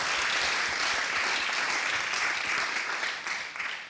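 Sustained applause from a crowd at a UNICEF health forum during a Tanzania health summit, a thick even roar of many hands clapping for a panelist, moderately distant and tapering slightly near the end.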